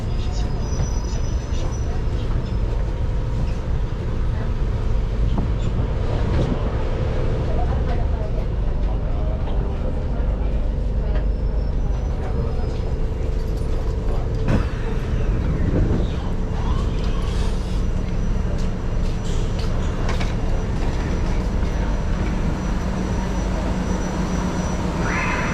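A Singapore MRT train pulls into Aljunied station with a steady, loud rumble of wheels and motors that runs throughout, and a voice talks over it.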